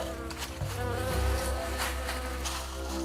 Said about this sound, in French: c'est l'invasion des mouches.